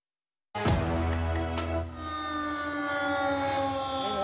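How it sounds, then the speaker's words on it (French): A loud warning siren starts abruptly after a brief silence, its pulsing opening settling into a sustained, steady wail. "La sirène de la ville a retenti pour alerter les habitants."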